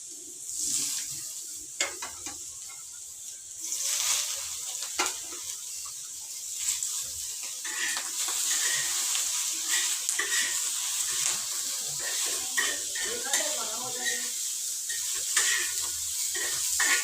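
Green chillies and brinjal frying in oil in a pan for a home dinner, a hissing sizzle with irregular stirring scrapes and bursts, moderately loud and unbroken, with no talking.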